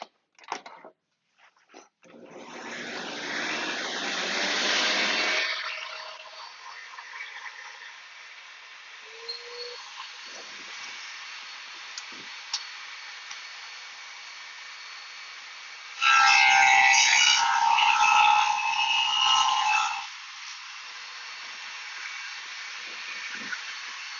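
Shopsmith fitted with a stacked dado blade set cuts a rabbet in the end grain of wood against a sacrificial fence, with two loud bursts of cutting noise separated by a quieter spell of motor hum.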